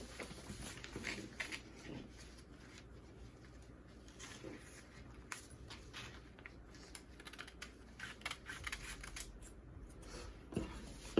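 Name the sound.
scissors cutting fabric for a dress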